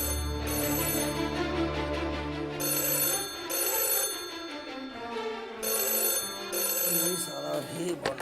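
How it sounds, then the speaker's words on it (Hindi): Outgoing phone call in a Hindi-speaking setting: a ringback tone sounds in repeated bursts of bright, ringing tones separated by short gaps, fairly close and clear. "रितेश भैया को फोन लगाते हैं।"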